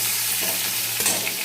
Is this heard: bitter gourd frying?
yes